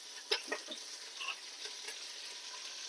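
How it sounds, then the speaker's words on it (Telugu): Curry leaves sizzle in hot oil as tempering for mixed-dal sambar, a soft steady frying hiss with a few brief crackles and stirring clinks near the start, faint and close, with no talking. "కొంచెం కరివేపాకు వేసుకుందాం."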